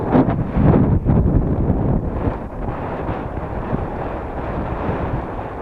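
Strong, gusty wind buffets a microphone on a hillside while a model glider (Hobbyking HK EZIO 800) is slope soared, a dense continuous roar with heavier gusts early, loud and steady throughout.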